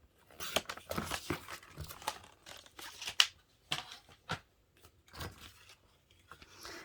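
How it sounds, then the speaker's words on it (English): Scissors snip through a sheet of paper card, cutting it in half for a double slider card; a series of short, close crisp cuts and crinkles come in irregular bursts, with no talking. "And then I'm going to cut this in half at 6."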